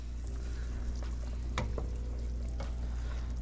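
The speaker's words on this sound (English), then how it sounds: "We are full on boiling now." Carnivore soup comes to a full boil in a pot. A steady bubbling hiss runs under a low rumble, with a few sharp pops and clinks scattered through it.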